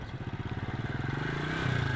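A motorcycle engine runs close by with a steady, rapid pulsing putter that climbs slightly in pitch and loudness as it is ridden, with a faint clatter underneath.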